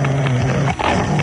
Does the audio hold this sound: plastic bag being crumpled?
no